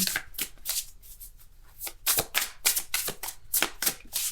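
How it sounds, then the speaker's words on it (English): Playing cards being shuffled by hand, several quick crisp riffles and flutters in bursts separated by short pauses, close and fairly quiet. "I'm going to keep shuffling"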